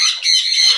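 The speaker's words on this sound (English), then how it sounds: "Oh, what a good bird." A pet bird lets out a loud, harsh squawk held for nearly a second, close by, with no talking over it.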